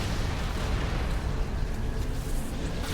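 Plasma launcher explosions in Halo Reach make a dense, loud, continuous rumble of blasts that fills the whole stretch with no clear gaps.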